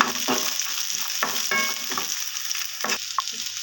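Coconut pieces sautéed with onions in a hot pan for thuthuvalai chutney, with a steady sizzle broken by several scraping stirs of a spoon, close and moderately loud.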